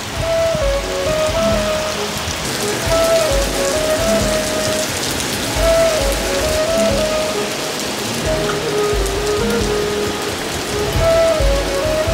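Heavy rain falls outdoors in a hillside village, drumming loudly and continuously on surfaces with a dense, close hiss that barely changes from start to finish.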